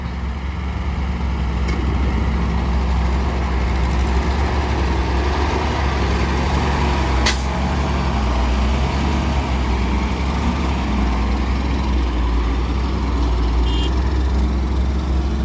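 A heavy ten-wheel dump truck loaded with soil labours up out of a 15-metre pit dug for a starch factory's wastewater pond, its deep diesel engine droning steadily and loudly throughout with no break.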